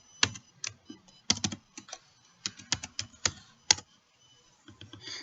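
A computer keyboard is typed on close by in short, uneven bursts of clicky keystrokes separated by brief pauses while logging into a Windows Server machine.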